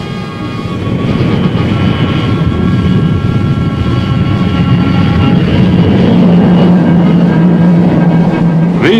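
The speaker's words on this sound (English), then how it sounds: "These F-86 Sabers are in the 650 mile an hour class, and they're able to range 500 miles." F-86 Sabre jet fighters fly overhead, a steady, dense roar of jet engines that holds loud for the whole stretch and swells slightly toward the end.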